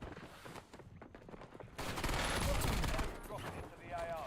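Sniper gunfire in a Rebirth Island video game match: a loud, dense burst of game shots and impacts swells up about midway, then fades under lighter game noise, with voices talking over it.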